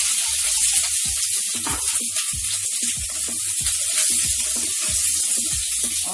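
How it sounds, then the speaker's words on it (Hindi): Chopped onions fry in about a tablespoon of hot oil in a pan, giving a loud, steady sizzle with a constant bright hiss and frequent small crackles and pops throughout. "पहले 1 टेबल स्पून ऑयल डाल के थोड़ा सा गरम कर लेंगे हम उसे, और उसके बाद में इसमें प्याज डाल देंगे।"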